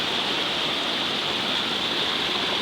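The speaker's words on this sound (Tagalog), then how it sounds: "Nalarapaw na ang tubig." River water overflowing a spillway, a steady broad rushing roar of falling water that holds constant throughout, with no voices.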